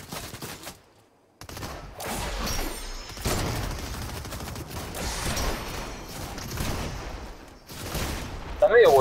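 Gunfire crackles in a Fortnite match as rapid bursts and scattered shots with mechanical clatter, coming and going in uneven clusters at moderate loudness.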